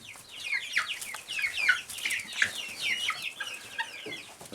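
Several chickens cluck and chirp in quick, overlapping bursts while pecking at cicadas outdoors; the calls are close and busy, with no talking.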